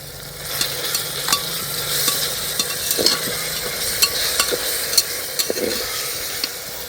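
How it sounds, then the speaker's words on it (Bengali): A paste of ginger, garlic and green chili plus ground coriander-cumin sizzles in a pan with lightly fried onion and tomato for ghugni, with steady frying hiss and repeated clinks of stirring throughout. "এবার আমি আদা রসুন কাঁচা লঙ্কা বাটা আর ধনে জিরে বাটাটা দিয়ে দিলাম"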